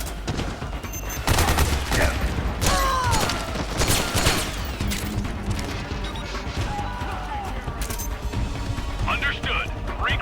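Bursts of suppressing gunfire in Metal Gear Solid 4, with rapid automatic shots, crashes and mechanical clatter sounding loud and dense throughout, while voices shout over the battle.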